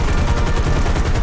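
Machine gun fire from an H6K4 flying boat in the combat game War Thunder rattles out as one loud, unbroken burst, dense and steady from start to finish.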